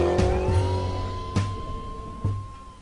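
Mustang police car drifting while chasing motorbikes, a steady engine drone with a faint high whine running throughout, broken by three sharp bursts of tire noise spaced across the clip.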